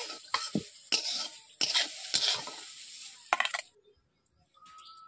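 Potato pieces browned in a wok and being lifted out, with repeated sharp scrapes and clanks of a spatula against the metal over a light sizzle, then a near-silent pause and a faint clink at the end.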